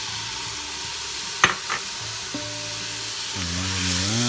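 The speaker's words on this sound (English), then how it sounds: "All right, so time to throw in the onions." Onions hit a hot pan with a steady, close sizzle, followed by a couple of quick scrapes and clinks as they are stirred, while a low hum sits underneath.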